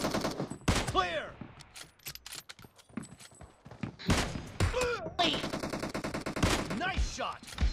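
Kar98k bolt-action rifle shots in PUBG Mobile ring out as several sharp, loud cracks spread through the stretch, mixed with game effects, footstep-like clatter and excited voices talking over the action.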